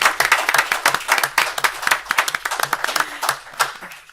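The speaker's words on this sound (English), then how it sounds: "Let's give them a round of applause for making that deliberate effort." Audience members at a city council meeting give a round of applause, a fairly small group whose individual claps stay distinct, uneven and close, tapering slightly toward the end.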